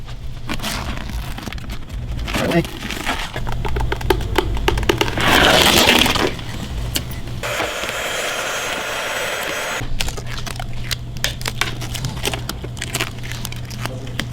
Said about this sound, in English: I just removed the PPF, put a little heat to it to soften the PPF adhesive, just pulled it back